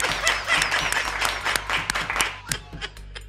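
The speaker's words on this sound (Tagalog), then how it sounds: "Palakpak." Applause from a small audience at a Filipino talk or commentary session, a scattered run of sharp hand claps that thins out toward the end, with some voices mixed in.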